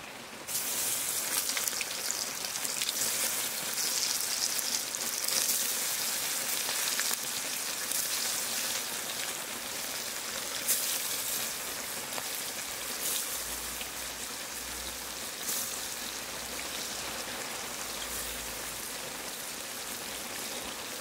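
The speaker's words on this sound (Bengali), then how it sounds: "এবারে মাছটা ভেজে নেবো। তেলটা দিয়েছি, তেলটা গরম হয়ে গিয়েছে।" Parshe fish frying in hot oil, a dense, steady crackling sizzle that runs unbroken and fairly loud throughout, with no voices over it.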